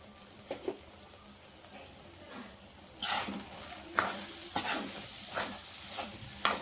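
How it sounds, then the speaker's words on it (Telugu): Garam masala being stirred into tomato egg bhurji in a pan, with a soft background sizzle broken by repeated scraping strokes of the spoon, close and fairly quiet. "గరం మసాలా ఒక పావు స్పూన్ అంతా వేసి ఒక్కసారి మిక్స్ చేసేసుకుందామండి"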